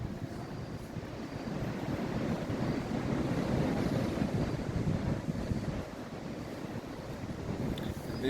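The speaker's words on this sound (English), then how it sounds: "I don't think you understand how much wind is actually coming through here." Strong wind buffeting the microphone inside Merlin's cave at Tintagel, with sea surf rumbling below, a dense continuous roar that swells and eases over several seconds, loud and close.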